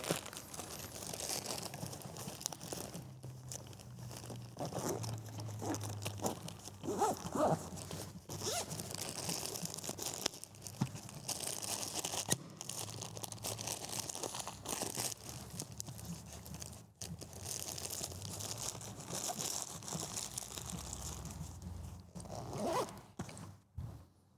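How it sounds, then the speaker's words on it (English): A plastic Ziploc bag crinkles and rustles close by as a military field pack is packed, with scattered zipper-like scrapes and crunches over steady low room noise, no voices. "I have a little Ziploc bag full of bin bags, Ziploc bags, and toilet paper"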